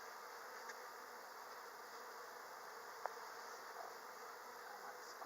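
Honeybees in a hive, with small pockets of bees clustered in a bottom back corner, give off a steady, soft buzzing hum that carries evenly throughout, with one brief click partway through.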